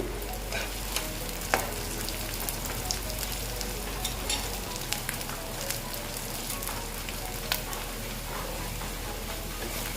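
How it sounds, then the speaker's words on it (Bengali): Egg going into a pan of frying potatoes and onions, with a steady, close, loud sizzle running throughout and no talking. "এবার এটাকে ভালো মতন ভেজে নেবেন ডিমটা দিয়ে দিচ্ছি"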